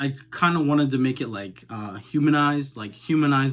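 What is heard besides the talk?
No distinct noise like a dog, phone or traffic.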